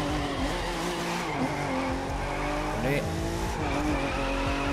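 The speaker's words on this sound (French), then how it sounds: "J'aimerais bien prolonger ce drift." A car drifting in The Crew 2 racing game gives a revving engine and sliding, squealing tires throughout, with someone talking over the gameplay.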